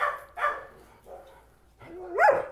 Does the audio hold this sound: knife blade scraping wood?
no